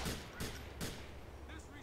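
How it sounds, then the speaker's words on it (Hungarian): Bursts of gunfire in the video game GTA IV, several sharp loud shots spaced apart over a couple of seconds, with faint game background sound between them. "Ki lövöldözik?"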